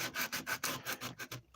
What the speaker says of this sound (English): But sanding sucks.